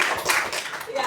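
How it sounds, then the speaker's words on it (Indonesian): Students in a mathematics classroom clapping their hands together in a brief, lively burst, close and fairly loud. "Tepuk tangan dulu dong buat kalian semua."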